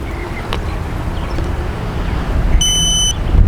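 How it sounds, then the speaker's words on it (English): The locator beeper on a 76mm micro FPV race drone gives a short high-pitched electronic beep after the transmitter is switched off, over low background rumble and handling noise. "it'll also beep if you turn off the transmitter"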